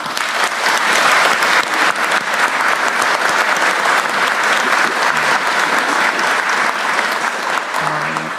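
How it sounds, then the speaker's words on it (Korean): An audience at a government ministry briefing gives loud, sustained applause for the labor minister and staff, keeping an even roar of clapping until a voice begins near the end. "우리 노동부 장관님과 직원들 위해서 박수 한번 하겠습니다."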